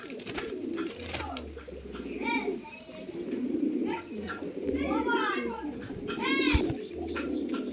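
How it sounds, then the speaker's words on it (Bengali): Large pigeons of a fancy breed coo in soft, rolling phrases nearby, several calls rising and falling over a busy background of chirps and distant children, while someone talks at times. "এটা খুব বড় সাইজের পায়রা"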